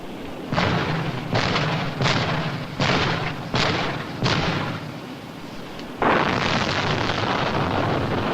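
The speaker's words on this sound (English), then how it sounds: "These anti-submarine mortars are controlled electronically." A warship's electronically controlled anti-submarine mortars firing: six rapid heavy thumping blasts in a rhythmic salvo roughly every 0.7 seconds, followed by a longer sustained roar, loud and close.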